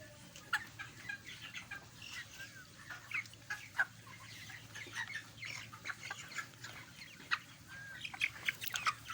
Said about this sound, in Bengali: আপনারা দেখতেই পাচ্ছেন মুরগিগুলা